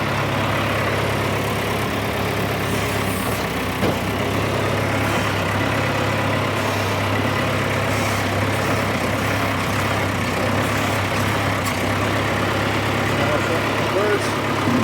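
A John Deere utility loader tractor engine running steadily at an auction, a loud continuous low diesel drone throughout, with people talking over it.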